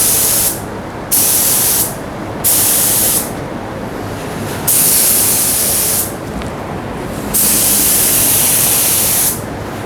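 A Sata spray gun sprays finish onto a cabinet face frame in five steady bursts of loud, close hiss, each lasting about a second or more, separated by short gaps.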